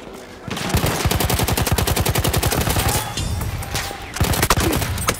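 The Hellriegel 1915 submachine gun fires in Battlefield 1 in long, rapid, continuous automatic bursts, loud and close, with a brief pause and a final short burst near the end.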